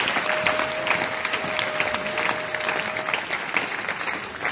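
A church congregation applauds with dense, continuous clapping that fills the room at an even level, with murmuring voices mixed in.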